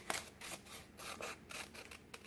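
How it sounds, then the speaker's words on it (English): Scissors cutting paper strips for a paper weaving craft, a series of quiet, close crisp snips in quick irregular succession with no talk. "Next one, cut straight up, stop at the stop line."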